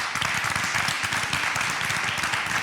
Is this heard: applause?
yes